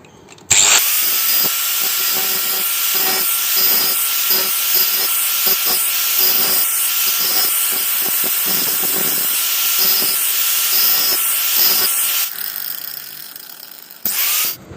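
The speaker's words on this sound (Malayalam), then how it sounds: "ഈ കോർണറെല്ലാം ഒന്ന് ഗ്രൈൻഡ് ചെയ്ത് പോളിഷ് ചെയ്യണം" A power grinder works the sharp corners of vertical CRI submersible pump stage pieces, a loud, close, continuous high-pitched whine with shifting grinding tone, stopping near the end before a brief final burst.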